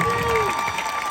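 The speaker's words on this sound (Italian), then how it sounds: "Facciamogli un applauso, è veramente un grande." A concert crowd in Palermo applauds and cheers in a dense, steady roar of clapping with a faint tonal voice carrying over it.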